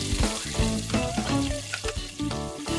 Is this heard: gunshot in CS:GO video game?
no